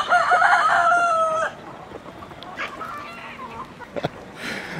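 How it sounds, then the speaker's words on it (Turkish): A yellow rooster on a farm crows loudly and close by in one long call, followed by quieter clucking and scattered farmyard noises. "Şu sarı horozumun ismi Saksağan. Ben ona Saksağan diyorum. Hem çok fazla bağırıyor"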